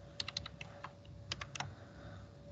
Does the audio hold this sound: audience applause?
no